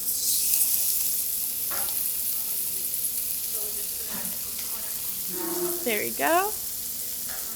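Tofu frying in hot oil in a pan gives a steady, soft sizzle all the way through, with light stirring and scraping, a few clinks, and a brief voice near the end.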